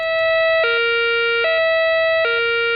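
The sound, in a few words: COMAR major accident emergency alarm siren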